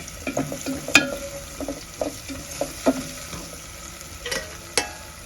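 Tempering fries in a pan for pepper and tomato rasam with red onions, a quiet sizzle broken by a series of close scraping stirs and spoon knocks.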